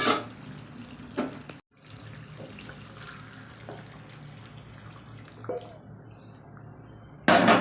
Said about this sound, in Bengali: এই যে গরম জলটা, এইটা এখন আমি এই মাংসটার মধ্যে দিয়ে দেব।